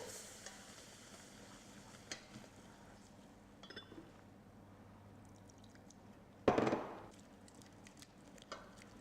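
Milk is stirred into a cooked flour roux in a pan, a quiet soft swishing and scraping with scattered clinks and one louder clatter of utensil against the pan.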